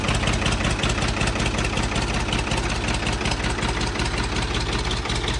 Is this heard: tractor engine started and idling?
yes